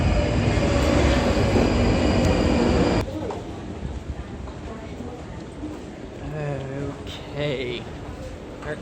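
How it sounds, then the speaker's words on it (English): A train moves loud and close at King's Cross St Pancras, its rumble dropping off sharply at about three seconds to quieter carriage noise with squeals and a chime, while a person talks over it. "there's my train."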